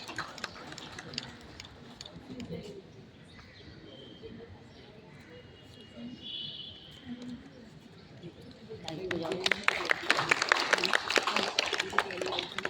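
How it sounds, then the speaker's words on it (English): Applause for a cadet at an NCC Republic Day 2025 prize distribution: a quiet, murmuring hall gives way to a steady burst of clapping from many hands, fairly distant and moderately loud. "a huge round of applause for Nikki Manish Sharma"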